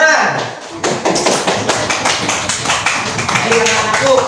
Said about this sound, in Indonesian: Pintar, tepuk tangan.